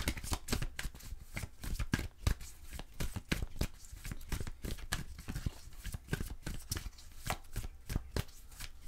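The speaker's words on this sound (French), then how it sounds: "avec un premier tarot, aujourd'hui, je vais faire du tirage à 3 cartes" Tarot cards shuffled by hand for a three-card draw: a continuous run of quick, crisp riffling and tapping flicks at close range, fairly quiet and steady, with no talking.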